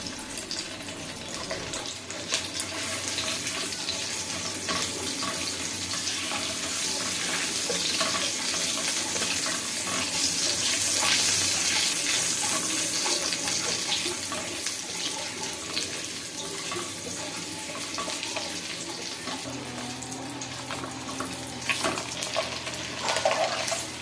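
Beaten duck eggs fry lightly in a pan with a steady, hissing wash of sound that runs unbroken and fairly loud throughout, with no talking.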